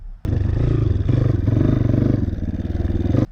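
A dirt bike engine drones loud and close for about three seconds, its steady rasping rumble pulsing slightly as the bike rides through ruts, then cuts off abruptly.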